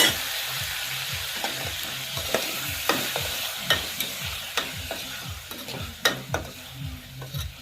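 Tomato curry with salt cooks in a pan on the gas stove, a constant sizzle under a steady rhythmic scraping of a spoon stirring the tomatoes, close and clear with no talking.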